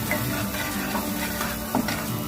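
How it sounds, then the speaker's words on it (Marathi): Malvani masala and red chili powder sauté in a pan for green chickpea usal, a steady close sizzle with soft stirring scrapes running throughout without any voices. "मालवणी मसाला टाकत आहोत आणि मग 1 छोटा चमचा लाल तिखट मसाला टाकून आपण हे सगळं परतून घ्यायचं"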